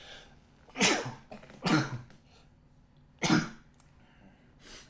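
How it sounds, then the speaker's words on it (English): Three separate sneezes from someone nearby during a Modern Magic: The Gathering card game, each a sharp burst spaced about a second or more apart, followed by quiet. "Sneeze off camera there"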